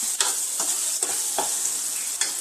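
Masala paste for crab dry frying in oil: a dense, loud sizzle continues throughout, broken by several rhythmic scraping stirs of the spoon through the paste, with no voices.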